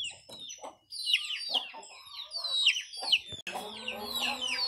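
Young chickens, including a white pullet with a pea comb, cluck and chirp close by in a busy, overlapping flock chatter, with a rooster-like call among them.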